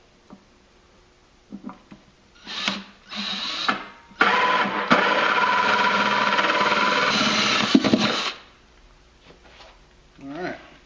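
Holes being cut in a Polaris XP1000 panel: a few short power-tool bursts, then a loud sustained cutting whine for about four seconds, close up, with a brief voice near the end.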